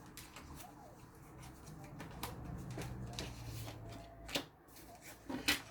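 A deck of cards being shuffled and cut by hand, soft papery riffles and taps close to the mic with a couple of sharper slaps near the end, no speech.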